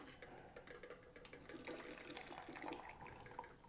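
Hot water is poured over pu'er tea leaves, giving a faint, continuous splashing trickle for a few seconds.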